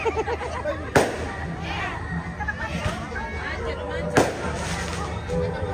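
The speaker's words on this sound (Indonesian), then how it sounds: "Petasan." Two sharp firecracker bangs, about three seconds apart, burst out over steady crowd chatter and street noise at a Toraja funeral at a tongkonan in Bamba Palawa'.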